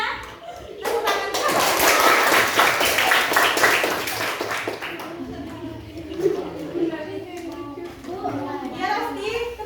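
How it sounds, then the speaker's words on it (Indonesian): A dance-class of children claps hands together in a classroom, a burst of rapid scattered clapping that fades into children's chatter and a teacher's voice. "tepuk tangan"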